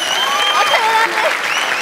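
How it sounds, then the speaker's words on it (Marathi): Dense, steady applause fills a stage event as an audience welcomes the chief guest, with cheering voices rising over the clapping throughout. "जोरदार टाळ्या."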